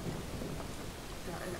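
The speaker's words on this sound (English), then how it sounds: "It's raining and it's super dark." Rain and thunder in the game Relics of Hyrule form a dense, steady hiss of falling rain with a low rolling rumble underneath, close and even throughout.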